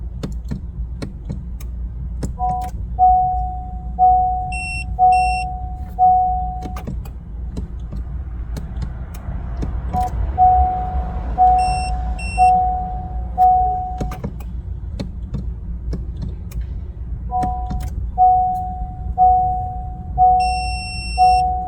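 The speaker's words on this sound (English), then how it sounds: "you will hear the tool long beep indicating the programming is successful" Repeated electronic beep patterns from a handheld key programming tool for a Honda Accord key fob: several bursts of short tones, then longer sustained beeps, with faint clicks and a low hum underneath.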